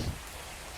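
Heavy rain during a thunderstorm pouring down in a dense, continuous hiss, with a brief low thump at the very start.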